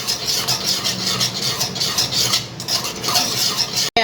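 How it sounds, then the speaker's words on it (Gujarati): Cheese being stirred into white sauce for pasta, with a continuous, textured scraping and swishing of a spoon in a pan, close and steady, ending with a brief sharp clunk. "એ ફરીથી આપણે મિક્સ કરી દઈશું."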